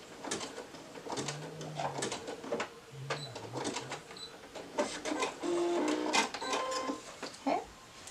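A sewing machine slowly runs a zigzag stitch through thick layers of headband fabric. The short bursts of mechanical clatter are irregular and close, with brief pauses and small clicks between them.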